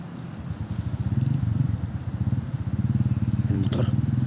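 A motorcycle engine runs steadily nearby with a rapid, pulsing throb. It grows slightly louder partway through, and a brief crackle is heard near the end.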